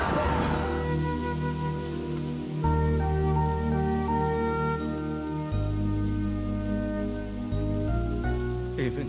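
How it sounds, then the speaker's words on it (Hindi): Heavy rain pours during a storm scene by a river in an Indian action film: a continuous, loud hiss of falling rain under prominent background music throughout, with no talking. "अचानक से बारिश तो बढ़ती जा रही है।"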